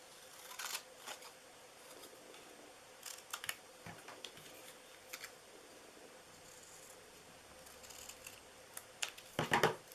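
Paper being cut for a handmade card with acetate, a few quiet crisp scissor snips spread over the clip with soft rustling in between, ending in a louder cluster of snips.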